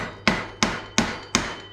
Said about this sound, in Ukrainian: Ну, молоток такий резиновий